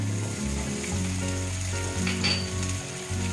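Grated ginger going into a hot pan of pointed gourd and peanuts, a continuous dense sizzle with faint stirring scrapes and a low hum underneath.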